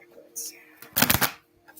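A deck of tarot cards is shuffled in a brief, close riffling burst with soft rustles before and after.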